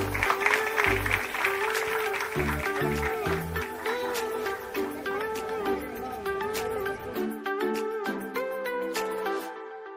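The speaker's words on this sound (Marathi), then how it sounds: "जोरदार टाळ्या यांच्यासाठी." A crowd at an award ceremony for women's self-help groups claps loudly and steadily. Tonal music or voices run underneath the applause, which thins out toward the end.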